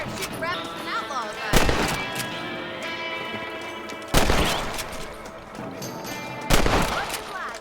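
Gunshots ring out while shooting rabbits in the Western video game Red Dead Redemption, with three loud sharp shots spaced a couple of seconds apart over a steady musical and ambient game background.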